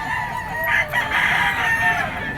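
A rooster, a Boston yellow-leg chicken at a busy pet market in Bocaue, gives a loud, close, drawn-out crow lasting about two seconds, with a faint hum of the surroundings behind it.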